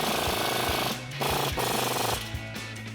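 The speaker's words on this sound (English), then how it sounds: "Next, we can tighten down our lower strut bolts." A wrench tightens the lower strut bolts on a Ford F-150 during a Freedom Offroad 3-inch front lift strut install, giving a loud, steady mechanical rattle with rhythmic low knocks and two brief pauses.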